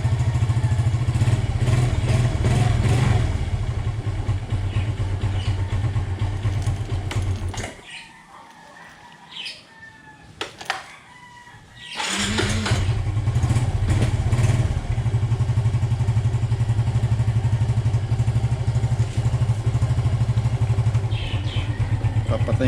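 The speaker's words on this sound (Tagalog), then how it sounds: "Papatayin ko ang makina" A Suzuki Smash motorcycle engine idles loudly with a steady low putter, cuts out for a few seconds into near quiet with small clicks, then fires back up and runs steadily again.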